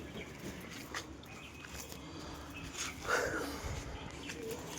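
Soft coos and faint chirps of pigeon chicks in a cage sound close by, rising briefly midway over a steady low background hum.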